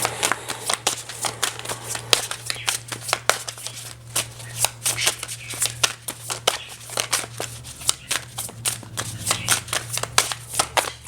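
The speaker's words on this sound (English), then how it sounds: "you'll sit here and you'll be just shuffling and shuffling and shuffling" Tarot cards being shuffled by hand in quick repeated riffles, a rapid run of crisp papery flicks close up, with a low steady hum beneath and no talking.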